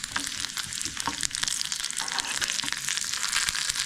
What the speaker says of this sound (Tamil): அரை ஸ்பூன் உளுத்தம் பருப்பு, 1/2 ஸ்பூன் கடலை பருப்பு. இந்த ஸ்பூனில் அப்படியே லைட்டாக வதக்குங்க.